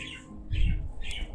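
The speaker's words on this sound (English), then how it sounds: "Can you hear the birds?" Bird squawks and chirps played from a live streaming soundboard during a podcast, two or three short faint calls over a low background hum.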